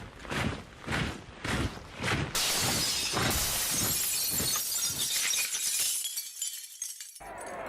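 Glass shatters loudly in a documentary sound effect, a sustained crash of breaking panes with scattered tinkling fragments after a rhythmic run of thudding footsteps, fading out abruptly at the end.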